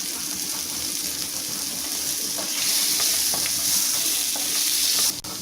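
Green chilli, tomato and carrot sauté in a pan with a little salt, a steady close sizzle with scattered stirring scrapes that swells midway, then a sharp clunk near the end.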